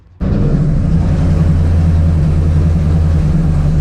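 A car engine cranks and catches to a loud, steady low running note, held close and constant for several seconds, with no talk over it; the car is being prepared for a street test.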